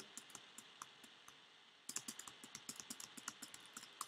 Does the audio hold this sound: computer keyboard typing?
yes